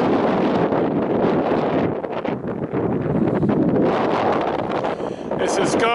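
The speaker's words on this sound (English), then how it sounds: "Wind's just now starting to pick up out here." Strong wind buffets the microphone on an open dry lakebed in Surprise Valley, California, a steady loud roar with gusty rumble filling the whole span and a brief lull partway through.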